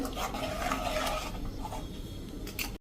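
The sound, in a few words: stirring buttermilk batter in a pot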